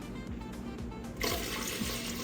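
Water rushes and splashes as it is poured into a cheesecloth of tiger nut milk pulp, starting partway through and continuing steadily at close range.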